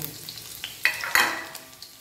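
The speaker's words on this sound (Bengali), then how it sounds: "তেল গরম হয়ে গেছে, লঙ্কা কুচিটা দেব" Chopped green chili drops into hot cooking oil with two sharp bursts of sizzle, then a quieter continuous frying crackle with light stirring noises, close up and without talk.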